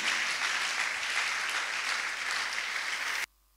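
A church congregation applauds during a Sunday service, steady dense clapping filling the room for about three seconds before cutting off abruptly into near silence.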